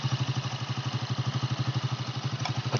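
A motorcycle engine idles nearby in a steady, rapid, even thumping rhythm, fairly quiet, with a small clatter near the end and no talking.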